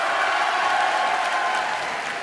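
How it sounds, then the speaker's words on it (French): A crowd at the Toulouse Game Show applauds a cosplayer with dense, continuous clapping that holds at an even level throughout, with faint cheering mixed in. "on applaudit monsieur Fanta"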